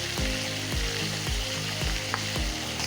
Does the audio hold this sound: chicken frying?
yes